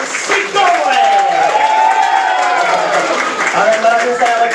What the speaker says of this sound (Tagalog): start this grand celebration with your warmest applause